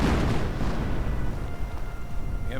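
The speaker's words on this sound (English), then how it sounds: "But lots of artillery hitting left and right" Nebelwerfer artillery shells strike a battlefield in a WWII strategy game, a heavy rumbling barrage of overlapping booms and debris that stays loud and dense before thinning out.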